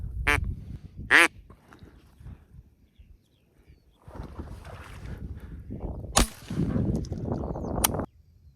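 Ducks during a spring duck hunt on open water give a few sharp, loud quacks, spaced apart over a low outdoor rumble, with rustling and movement noise toward the end.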